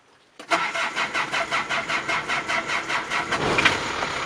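A car engine cranks with about a dozen quick, even starter pulses, then catches and settles into a steady running hum, loud and close with no talking.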